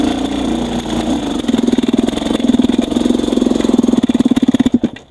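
XTNG GEN3+ 36 motorcycle engine in second gear, lugging at low revs until it stalls near 1,320 rpm. A close, steady engine drone turns into heavy, rhythmic chugging pulses that grow stronger, then cuts out abruptly just before the end.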